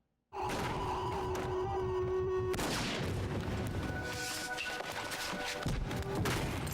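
Gunfire from a scene in the film Memento, a loud burst of sharp impacts and booms layered over a dense soundtrack, continuing as a harsh rumble with no speech.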